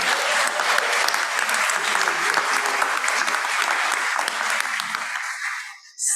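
Sustained audience applause in a church congregation after a musical performance, dense and steady clapping that holds at even loudness before stopping abruptly near the end.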